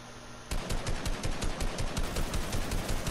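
A rapid string of gunshots rings out in a multiplayer shooter around the moment of a sniper rifle no-scope, with sharp evenly spaced cracks starting abruptly and running loud and close for about three seconds, no talk.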